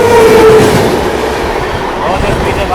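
A train passes a level crossing at speed, very loud and close. Steady rushing wheel noise and a brief horn-like tone come right at the start, and there is no speech.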